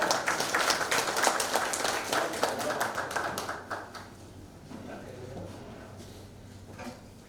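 Audience applause at an inauguration ceremony, a dense run of many hands clapping that stays strong for several seconds and then thins out and fades toward the end.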